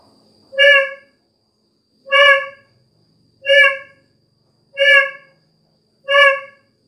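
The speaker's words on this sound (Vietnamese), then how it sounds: "cái này còi vắt D25 anh em nhé" D25 twisted horn sounding five evenly spaced, loud honking blasts, each about half a second long with clear pauses between, heard alone.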